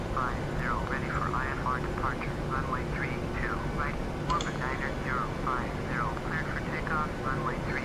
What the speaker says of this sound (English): getting clear for takeoff. There we go.